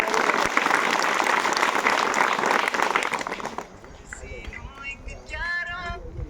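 Loud, sustained clapping from an audience at a village school prize-giving fills the first few seconds, then fades out as children's voices and chatter take over.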